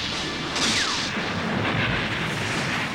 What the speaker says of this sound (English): Pilot 1, fire when ready.